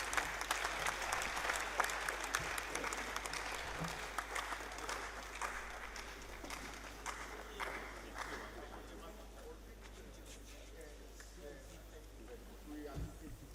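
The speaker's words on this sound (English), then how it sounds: "another round of applause for our keynote speaker" An audience at a renewable energy hybrid conference applauds the keynote speaker, a dense steady wash of clapping that slowly thins and fades over about thirteen seconds.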